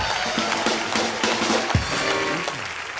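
Studio audience applause on The Kapil Sharma Show, a dense burst of clapping from a live crowd that runs the whole time, with shouts and music mixed in.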